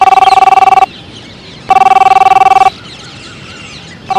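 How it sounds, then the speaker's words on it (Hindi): A telephone rings in two long electronic trilling bursts with a pause between, loud and close, and a third ring starts just as the sound cuts off. "फोन आ गया तेरा"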